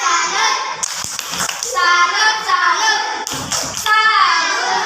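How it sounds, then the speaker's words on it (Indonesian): Classroom applause from a group of children, with bursts of hand clapping mixed into overlapping young voices and chatter. "Oke, tepuk tangan."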